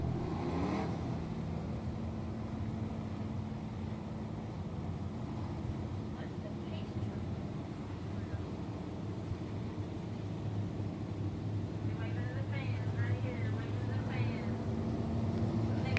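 Pure stock race cars at Brownstown Speedway roar down the front straight in a dense, steady engine drone, with a voice talking faintly over it.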